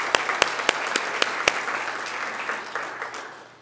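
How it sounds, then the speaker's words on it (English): Audience at a city State of the City address gives a round of applause, sharp individual claps at first blending into steady clapping that fades away. "So give a round of applause to Ronnie."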